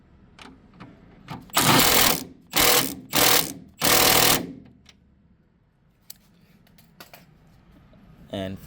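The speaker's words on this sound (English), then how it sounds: "So I'll go ahead and torque the bolts to spec just like so." Ratchet wrench torquing engine mount bolts on a 2012 Kia Soul 2.0L: four loud, close bursts of clicking pawl strokes, followed by quieter scattered clicks and handling noises.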